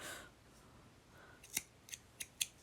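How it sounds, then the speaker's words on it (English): Scissors snipping yarn during a crochet project for a vintage-style baby doll cradle purse: four sharp, close clicks in quick succession after a soft rustle, in a quiet room. "I'm going to go ahead and cut my yarn"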